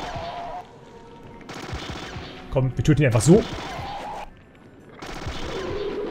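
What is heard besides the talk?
gunfire in video game Battle Isle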